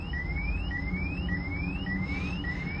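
A Bentley with both battery terminals disconnected keeps beeping: a steady, loud electronic alarm tone repeating in rising sweeps about every half second, with a constant background hum and no talking.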